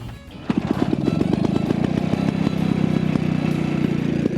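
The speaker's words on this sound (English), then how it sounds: "now you're going to start it up for us so we can see what a Nera car sounds like" A vintage Ner-a-Car motorcycle catches on a kick start and settles into a loud, close, rapid-firing engine beat that keeps running steadily with a rattly, buzzy tone.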